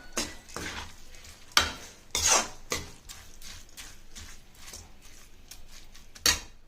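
Rice being sautéed for veg biryani, scraping and stirring in a pot, with spoon clinks against the metal and a light sizzle underneath, in uneven strokes.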